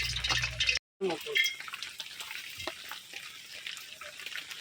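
Luchi flatbread frying in hot oil, a low bubbling sizzle with faint crackles, interrupted by a brief cut, with a voice talking quietly over it at times.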